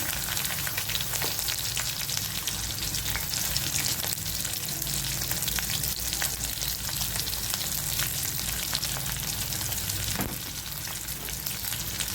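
Onion sautés in a pan for an okra and broad bean poriyal, giving a dense, even sizzle throughout with faint stirring scrapes and no voices.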